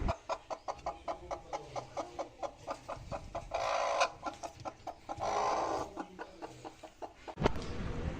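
A hen clucks as she is settled onto a clutch of eggs, giving a steady run of short, evenly spaced clucks at close range, with a couple of brief louder rustling bursts partway through.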